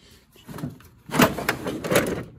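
Large drawer of a Craftsman metal tool chest sliding open, a rolling, rattling metallic run with a louder rumble and clatter toward the end, close and fairly loud, with no talking.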